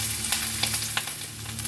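Potato and pointed gourd pieces with green chillies fry in a pan. A steady close sizzle runs throughout, broken by quick scrapes and clicks as the vegetables are stirred.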